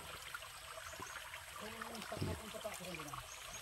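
Soft, steady trickling of a small stream beside a banana plantation, faint and continuous, with a few muffled voices in the background.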